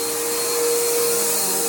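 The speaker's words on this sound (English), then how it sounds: "He's just going to vacuum that little room." A Bissell Powerforce bagged upright vacuum cleaner runs loud and close with a steady whining motor hum and airflow rush, no one speaking.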